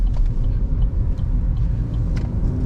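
A car passing on the road, heard as a continuous loud low rumble of engine and tire noise, steady throughout without voices.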